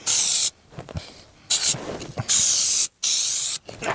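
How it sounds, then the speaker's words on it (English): A can of Permatex Heavy Duty Automotive Headliner Adhesive sprays in loud hissing bursts, four of them with short pauses between, up close, onto a car headliner fabric and ceiling. "I'm going to spray the ceiling and I'm also going to spray this, the fabric that's hanging down here"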